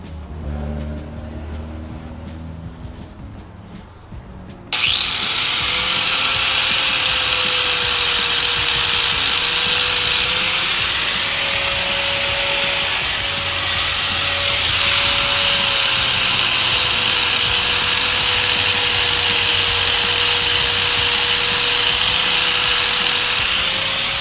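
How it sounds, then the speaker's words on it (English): A grinder starts abruptly and runs loud and steady on a piece clamped in a vise, its whine dipping slightly under load as it works, after a few seconds of quieter handling noise. "let's plug this in and get the grinder going"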